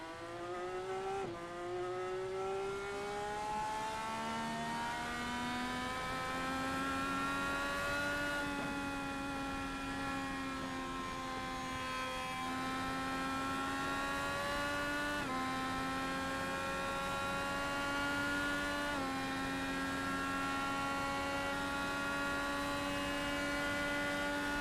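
Race car engine in The Speedway 500 held at a steady high pitch, a sustained whining drone that slowly shifts tone as gears change, loud and unbroken throughout.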